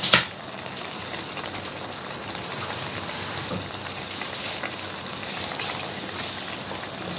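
Potato and minced meat simmer in a pan after half a cup of water is added, giving a steady, close bubbling sizzle that holds evenly throughout, with a soft clatter at the start and end and no speech.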